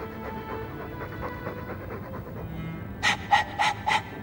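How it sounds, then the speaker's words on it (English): A dog in Dragon Age II pants continuously, quick rhythmic breaths close and steady, ending in a few louder, sharper huffs over quiet game background. "All that noisy dog breath, day in, day out, make him stop."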